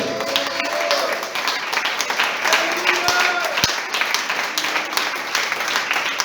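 Congregation at a Spanish-language church service applauding, a busy patter of hands under a voice speaking intermittently, with brief sharp knocks partway through.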